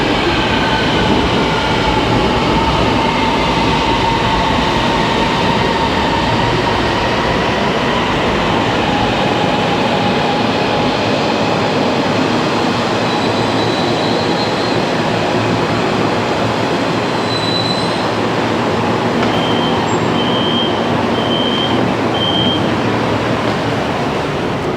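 A Kuala Lumpur Ampang line metro train rumbles steadily throughout, a loud continuous roar with faint high whines rising and a few short repeated tones near the end.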